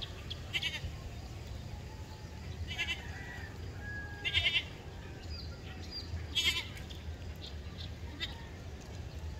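Several short goat bleats sound at a distance over a steady background hum, spaced irregularly and fairly faint, in Calaca City, Batangas, Philippines.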